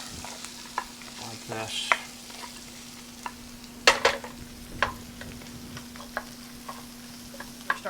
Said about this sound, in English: it is good to get them all mixed into the oil more